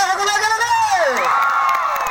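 A crowd at a stage show cheering and whooping, with children's shouts mixed in. A sustained, loud burst of voices rises and falls, while individual claps stay faint within the noise.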